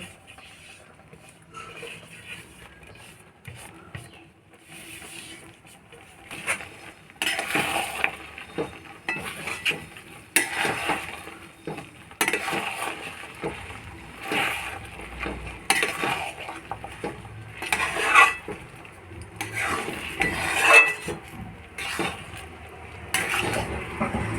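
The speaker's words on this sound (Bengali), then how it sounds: "তারপরে মশলাটা মিশিয়ে দেব" Spoon scraping and clattering in a pan while jujube pickle with sugar and fried spices is stirred, irregular metallic knocks and scrapes close by, without speech.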